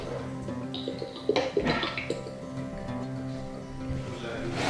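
Leftover oil is poured into a container of water, giving soft gurgling splashes and a brief burst of liquid sounds midway, faint and close, with a voice talking over it.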